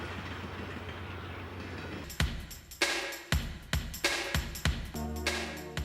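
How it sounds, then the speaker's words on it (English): Rocky Mountaineer passenger train running through the Canadian Rockies: a low rumble, then a run of sharp, evenly spaced wheel clacks over rail joints, close and distinct. "The Rocky Mountaineer is quite simply one of the world's spectacular train rides."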